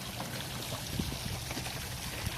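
Water steadily pouring and splashing in a rose garden fountain in Tyler, Texas, a continuous moderate rushing wash with small splashy flickers, heard alone.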